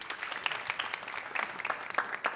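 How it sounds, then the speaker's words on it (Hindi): Audience clapping for Mayank, a young attendee called up at a youth conclave, steady dense applause across the whole span with sharp individual claps standing out. "मयंक के लिए तालियां बजा दो यार पहले"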